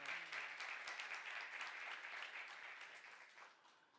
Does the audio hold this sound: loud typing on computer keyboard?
no